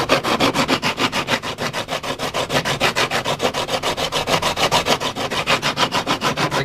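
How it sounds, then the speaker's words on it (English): Repaired FZR motorcycle fairing material roughened by hand before gluing, a fast rhythmic back-and-forth scratching with even strokes about four per second, close and steady, no speech. "this material roughened up, just so the glue gets a better bite."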